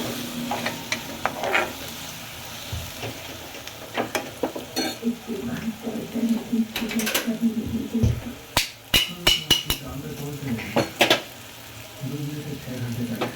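Spiced masala being mixed in a pot for kolbi batata, a prawn and potato dish, with a low sizzle under repeated scraping and clanking stirs that grow busier toward the end, a voice speaking in between.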